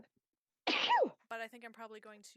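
A single sharp sneeze bursts out abruptly from near silence, loud and close, followed a moment later by a person speaking.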